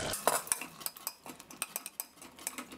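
A spoon clinks and scrapes repeatedly against a pan as a spoonful of homemade milk cream goes into frying masala for a soya chunk curry, close and fairly quiet, with rapid irregular metallic taps and no talk.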